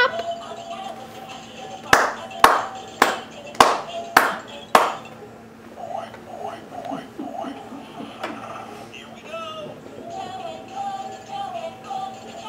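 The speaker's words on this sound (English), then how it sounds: "Can you clap?" Six sharp, evenly spaced hand claps ring out close by, followed by a voice talking and singing over a toy's tones.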